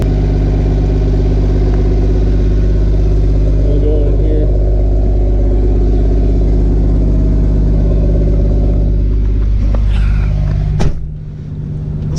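A Cummins diesel with an S500 turbo idling after a cold start at about 34 degrees, no grid heater and one battery: a loud, steady, rumbling drone held close up, then cutting off abruptly near the end with a brief clatter.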